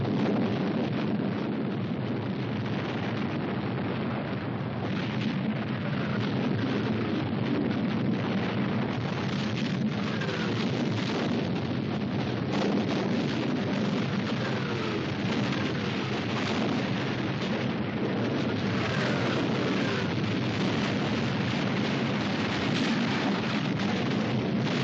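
A British artillery barrage at El Alamein, a dense unbroken roar of rumbling gunfire that holds steady at a loud level throughout.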